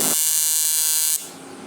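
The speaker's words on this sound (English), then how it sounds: "I'm going to go ahead and fusion weld this backside" An electric welding arc fuses the back side of a cracked aluminum wheel rim, giving a loud, steady high-pitched buzz that cuts out abruptly after a second, leaving a quieter hiss.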